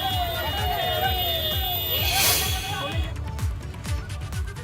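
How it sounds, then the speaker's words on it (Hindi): Crowd murmur at a roadside where two people are fighting in the middle of the street, a steady hubbub of many voices with traffic noise beneath throughout. "भीड़ भी जमा है।"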